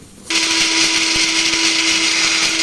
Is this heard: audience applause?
no